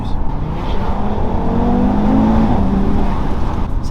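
An Audi TT RS five-cylinder engine revs close by, its tone rising and swelling through the middle of the clip before settling back to a loud idle.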